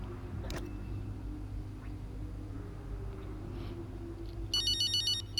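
A phone ringtone in the F1 25 racing game sounds as a bright, repeating electronic trill near the end, preceded by faint ambient hum and a brief click.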